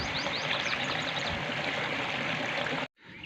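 Irrigation water gushing steadily into a field channel for sorghum, a loud continuous rushing flow close by, ending in a sudden cut to near silence.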